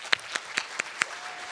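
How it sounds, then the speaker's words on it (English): Applause for senator John Morlock at a senior summit: five sparse, distinct claps spaced evenly over a faint room background, quiet and fairly close, with no voices. "please join me in giving John Morlock, our senator, a warm round of applause"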